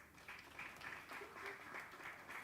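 Audience applause welcoming someone speaker, an NGX Relco director, at an International Women's Day bell-ringing event for gender equality; a faint, steady wash of distant clapping that stays level throughout.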